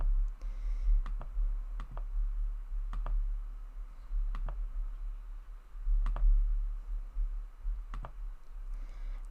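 Sparse, crisp clicks of a computer mouse while browsing and choosing logo styles in the Zyro website builder, single and double clicks spaced a second or two apart over a low hum.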